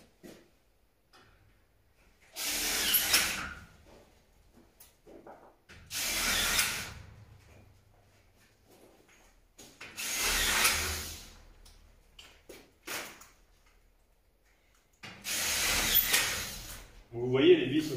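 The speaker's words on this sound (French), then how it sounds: "Alors mettre une petite vis entre elles" A power screwdriver drives small screws to join metal studs (ID4 uprights) during a renovation, giving four separate whirring bursts of a few seconds each, loud and close, with pauses between them.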